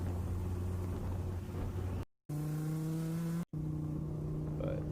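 A tuned Gen V Dodge SRT Viper engine revs toward its redline, with a rising throaty drone broken by two brief cuts, loud and close with no voices.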